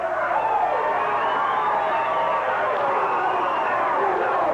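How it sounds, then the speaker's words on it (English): A 1985 pro wrestling arena crowd roars and cheers wildly, a continuous dense wall of shouting voices with no breaks. "This crowd is going absolutely berserk"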